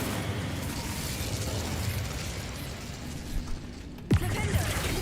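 A fire spell, Incendio, is cast in Hogwarts Legacy: one sharp fiery burst near the end cuts through a steady bed of game ambience and rumble.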